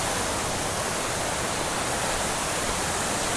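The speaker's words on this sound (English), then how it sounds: "and it's like a waterfall over here." Steady, loud roar of rushing water, a broad continuous wash of noise with no pauses, like a heavy flow pouring over a spillway close by.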